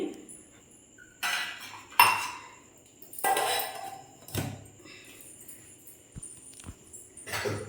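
A spoon stirs sugar in a metal pot, producing several close, bright clinks and scrapes in irregular bursts with quiet gaps between them, with no talking.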